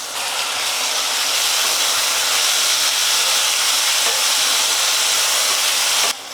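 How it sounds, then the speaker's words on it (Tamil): Onions and tomatoes sauté in a pan for a tamarind curry, giving a steady, even, loud hiss of frying that barely changes for several seconds before dropping off abruptly at the end. "வெங்காயம் தக்காளி எல்லாம் நல்லா வதங்கிடுச்சு"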